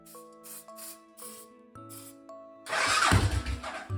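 Suzuki Savage chopper motorcycle engine bursts into life with a sudden loud roar, a rough single-cylinder rumble filling the last second and a half after quieter clunks and tones.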